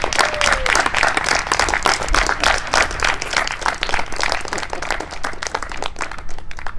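A room of schoolboys at a middle school verse-speaking event claps steadily and densely, a loud, continuous round of applause with faint voices mixed in.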